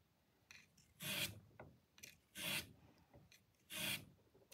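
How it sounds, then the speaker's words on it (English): Sandpaper is rubbed by hand over a felt piano hammer in three short, soft scratchy strokes with quiet gaps between them, close and faint. "Keeping finger pressure on the sandpaper in such a way that I'm not going to have any angles."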